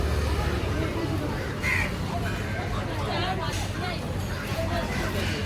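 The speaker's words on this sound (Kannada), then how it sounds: "ಮಂಗಳೂರು ಬಂದರಿನ ಕಾಗೆಗಳು ಕೊಕ್ಕರೆಗಳು ಎಲ್ಲ ಇದೆ" Crows caw amid a busy, noisy fishing harbour soundscape in Mangaluru, their calls partly buried under a constant din and people talking.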